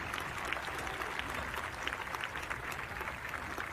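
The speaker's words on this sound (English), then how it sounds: "And a warm ovation, rightfully so, from this crowd here at Thompson Field." A crowd at Thompson Field during a women's football match between Syracuse and Virginia Tech applauds as an injured player gets to her feet, steady warm clapping from many hands throughout, moderately distant, with faint talk mixed in.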